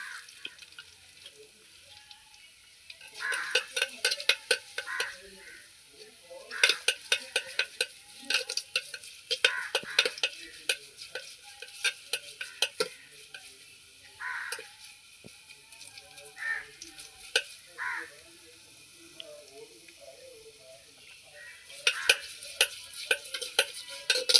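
Ingredients frying and being stirred in a pan for puli rasam, with clustered scraping and clattering bursts over a soft, steady background, close and fairly quiet, with pauses between rounds of stirring.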